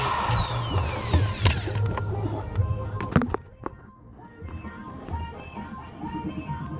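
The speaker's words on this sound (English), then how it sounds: "On the bottom two I drilled pilot holes and then used the 1/8" Power drill boring pilot holes during a pedal install on a BMW 528i or 535i: a whirring, rising motor spin with clattery bursts, close by, easing to quieter shop noise and then picking up again.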